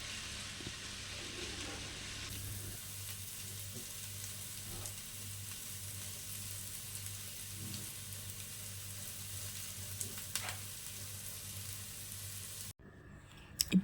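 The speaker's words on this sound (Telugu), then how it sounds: "ఈ కొబ్బరి ముక్కలు ఉల్లిపాయల్ని 1 మినిట్ సిమ్లో పెట్టేసి వేయించాలి." Coconut pieces and onions fry over low heat in a pan for masala ragi rotte. The sizzle is soft and steady with occasional faint stirring scrapes, and it cuts off abruptly near the end.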